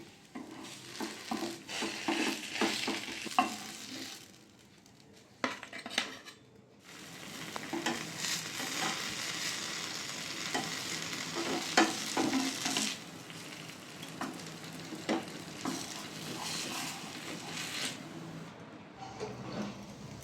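Palm-sweetened rice pancakes frying in a pan, with a steady sizzle, clattering spatula and pan sounds, a brief quiet gap, then continued frying and scraping.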